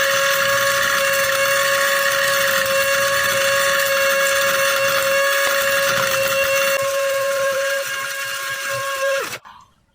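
A high power grinder runs at full speed, a loud steady whine with a strong sustained tone and dense mechanical noise that holds for about nine seconds before cutting out abruptly into near silence.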